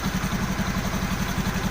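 A Honda automatic scooter engine idles at around 1300 rpm with a steady, even, close-up pulsing throb.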